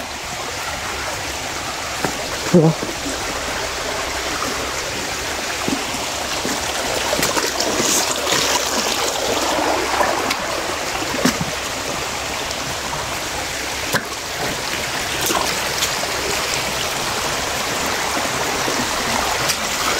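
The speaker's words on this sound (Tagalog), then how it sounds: "Maraming ilog dito na pagdadaanan ko eh." A video game river stream flows steadily, a continuous rushing and trickling wash with occasional small splashes, no voices.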